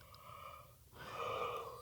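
A person yawns close by during an Appalachian Trail thru-hike, a soft, breathy inhale that builds into a longer, louder exhale, alone and quiet.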